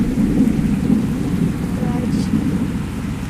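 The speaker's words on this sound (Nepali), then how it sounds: "डेन्जर पानी परेको फेरि" Heavy rain pouring down with a deep, continuous rumble of thunder, loud and steady throughout, with no talking.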